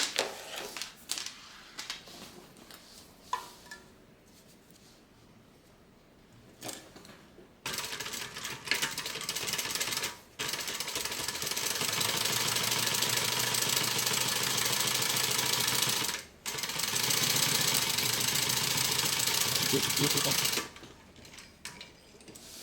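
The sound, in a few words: sewing machine stitching tote bag pocket closed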